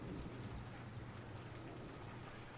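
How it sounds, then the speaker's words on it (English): Steady rain pours through a tabletop game ambience for a D&D session, dense and continuous with a low rumbling bed suggesting distant thunder, even in level and with no voices over it. "you can feel like the wind against it, and then the rain"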